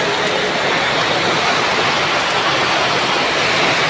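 Heavy rain pours down in a steady, dense hiss, loud and unbroken throughout, with no pauses or other sounds standing out.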